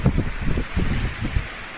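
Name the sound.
strong wind blowing over a wheat field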